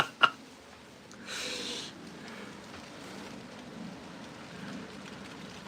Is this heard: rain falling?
yes